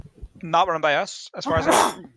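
A person sneezes once, sharp and close, right after someone speaks a short sentence.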